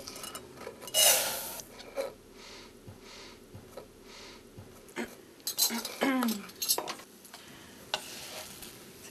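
Dry buckwheat groats tipped into a hot pot, a brief rushing pour followed by soft scraping, a faint crackle and clinks of a utensil against the pot, with a voice in parts.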